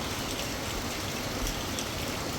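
Steady rain pours down in an even, hissing wash, with no voices and no pauses across the short stretch.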